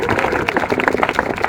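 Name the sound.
audience applause for speakers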